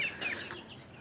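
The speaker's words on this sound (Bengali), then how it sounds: "4 পিস কাদারনাথ মুরগি আছে" Kadaknath chickens in a cage give a few soft, close clucks and short calls over quiet farmyard background, with a sharper sound at the very end.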